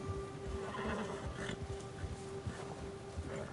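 A horse in a PS4 video game neighs and whinnies over steady ambient background sound, with a few soft hoof clops and no talking.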